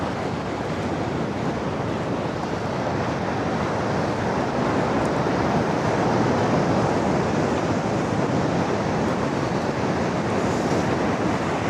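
A steady ocean breeze and rolling surf on the Tofino coast form a dense, unbroken wash of broadband noise, loud and near, with wind buffeting the microphone and no voices present.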